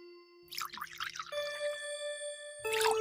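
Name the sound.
water being poured onto a duck's head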